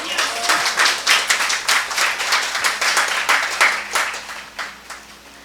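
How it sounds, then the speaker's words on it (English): An audience at a law college awards ceremony applauding, a steady round of close, rapid clapping that gradually tapers off toward the end. "And a round of applause, yes."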